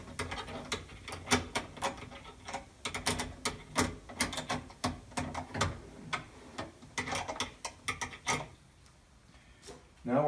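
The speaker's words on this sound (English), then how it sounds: "You tighten the nut up so it's just snug." A nut being snugged down on a water softener fitting during installation, heard as a run of close, irregular clicks, ticks and light ratcheting taps with no talking.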